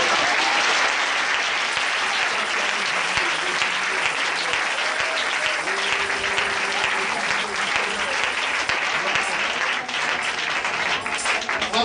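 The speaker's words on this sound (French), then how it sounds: "Une acclamation." Sustained congregation applause fills a church service, dense and steady for about twelve seconds with cheering voices mixed into the clapping.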